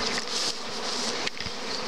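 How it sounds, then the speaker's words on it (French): Honey bees swarm out of a hive in spring, filling the air with a dense, steady buzzing hum of many insects close by, with no voices. "Ça sort toujours pas mal d'abeilles."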